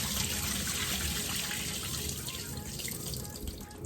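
Cold tap water runs steadily into a sink for the final rinse of sea moss (Irish moss), a continuous close splashing hiss with no talk.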